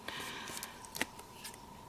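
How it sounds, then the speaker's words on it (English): Scissors snipping a paper die-cut piece for a card-making centerpiece, a few soft close cuts over a faint steady background hum. "I'm just going to take my scissors and behind here I'm cutting it."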